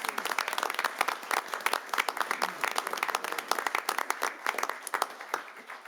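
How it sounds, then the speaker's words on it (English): A crowded city council chamber breaks into a round of applause for three new police officers, with dense, steady clapping that carries on at fairly even loudness for the whole stretch. "I'll just end with one more round of applause for these three new police officers."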